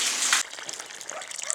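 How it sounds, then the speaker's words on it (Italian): Water from a hydraulic ram pump pours out of a pipe after climbing roughly 10 to 15 metres of height, a steady close gushing stream with a brief louder burst at the start and no voices. "Ecco il flusso dell'acqua che arriva da un dislivello dall'ariete idraulico fino a qui"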